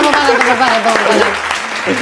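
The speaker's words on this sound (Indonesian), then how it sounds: "Tepuk tangan semuanya. Oke, tepuk tangan." Applause for a guest, a well-known Indonesian pharmacist, rises around a talk-show host's voice, which stays prominent over a moderately loud spread of clapping.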